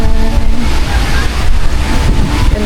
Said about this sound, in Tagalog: So, ito yung dagat na yan.